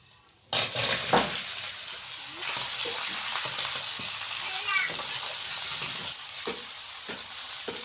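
Chopped ridge gourd drops into hot oil with bay leaf and panch phoron, bursting into a loud, steady sizzle that carries on with occasional clanks of a stirring spoon in a village kitchen.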